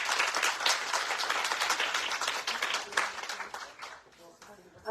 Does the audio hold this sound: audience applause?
yes